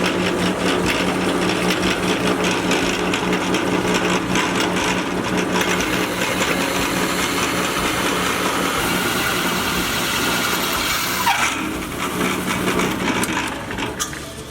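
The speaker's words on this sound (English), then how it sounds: "We're cutting this Lexan with a hole saw to use as our gauge lenses." A hole saw on a drill press cuts through a Lexan sheet to make gauge lenses, giving a steady, continuous mechanical whir and grinding that runs loud and unbroken throughout.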